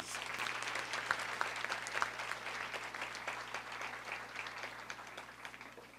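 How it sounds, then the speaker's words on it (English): Audience at a Malcolm/King breakfast event gives a speaker another round of applause, a soft, even wash of many hands clapping that sounds somewhat distant and holds steady throughout. "Let's give Dr. Domingo another round of applause"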